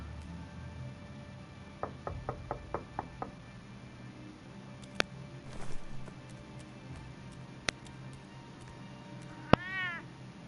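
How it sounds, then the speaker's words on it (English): A cat in the video game Batman: A Telltale Story lets out a single short meow near the end, after a run of sharp clicks and taps against quiet ambience. "Yo, you little feisty cat."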